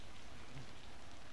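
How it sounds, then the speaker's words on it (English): Steady rain falls in the video game Magical Diary, a dense, even hiss with no voices, holding at an unchanging level for its short length. "Sorry, because it's raining."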